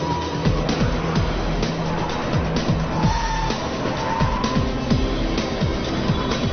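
A Dinan-tuned BMW 335i and an M3 run a slalom course. Engines rev up and down in rapid rhythmic swings, with tires squealing through each quick direction change at moderate distance.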